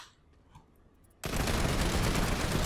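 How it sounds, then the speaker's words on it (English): Rapid automatic turret fire in the online shooter Planetside 2 bursts in abruptly after a quiet moment and continues as a loud, dense, sustained barrage. "Oh yay, turret!"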